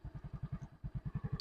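A motorcycle engine thumps in a rapid, even pulse as a person rides the bike, close and fairly quiet, with a brief pause in the middle before the rhythm resumes.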